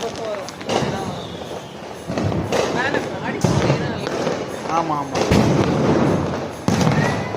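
Repeated sharp crackling bursts and pops of firecrackers and fireworks going off around in the evening after rain stopped, with a person talking over the noise.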